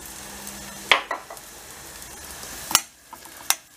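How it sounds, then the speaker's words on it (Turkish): Sucuk sausages frying in a pan with a little butter, a continuous close sizzle punctuated by a few sharp utensil clacks. "sucuklarımızı böyle pişiriyoruz. Az bir şey de tereyağı atmak lezzet katacaktır."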